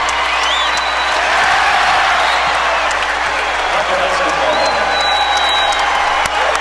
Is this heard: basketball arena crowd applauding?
yes